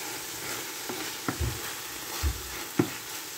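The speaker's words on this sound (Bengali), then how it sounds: "তারপর এটাকে একটু নেড়ে চেড়ে নিব ধনে পাতার সাথে চিংড়ি মাছগুলোকে" Prawns frying with coriander leaves are stirred in a pan over a soft steady sizzle, with a few sharp spatula scrapes and knocks spaced irregularly.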